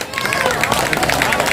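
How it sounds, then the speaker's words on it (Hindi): Dense crowd clapping fills a public speech gathering, a steady, loud wash of many hands with no pauses across the whole stretch. "ताली बजाइए।"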